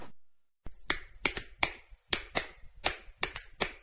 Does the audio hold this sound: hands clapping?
yes